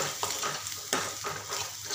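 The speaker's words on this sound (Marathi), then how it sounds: "हे सर्व मसाले असे मिक्स करून घेते." Red chilli, coriander and turmeric powders are stirred into a frying tomato masala for a spicy matki dish. A close, continuous sizzle is broken by a few sharp spoon scrapes against the pan, with no talking.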